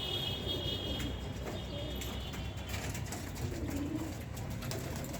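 Pigeons coo in a house at night, low soft rolling calls repeating steadily under a constant hum of background noise, with a few faint chirps and no speech.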